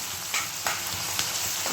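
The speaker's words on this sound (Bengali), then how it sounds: "ভালো করে একটু ভেজে নেব।" Chicken frying in a pan with onion, capsicum and tomato, a steady loud sizzle with occasional stirring scrapes throughout.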